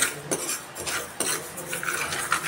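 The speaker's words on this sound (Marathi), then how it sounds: "जरा जरा परतायचे कारण का तवा आता गरमच आहे ना." Rice and black pepper being stirred and roasted on a hot tawa over a wood-fired chulha in a Konkan kitchen, with scraping and light clinking of a spatula against the pan in short repeated strokes, close and fairly quiet, with no one talking.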